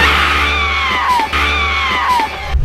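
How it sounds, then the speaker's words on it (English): A woman screams in the horror film House of Wax: two long, loud, falling shrieks, one after the other, close and without talk. "her screams weren't that good"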